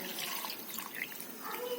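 Cold water pours into a mixer jar holding cooked pineapple, a soft, steady splashing trickle at close range that runs throughout without any talking.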